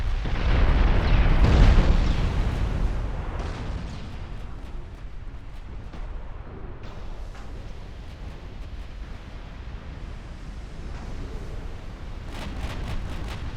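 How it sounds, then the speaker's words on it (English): Brazilian dreadnought battleship guns firing in a naval battle in the game Ultimate Admiral: Dreadnoughts, a heavy booming roar up front that settles into a sustained low rumble of distant salvos. "I think every single Brazilian gun is now firing at Ayer."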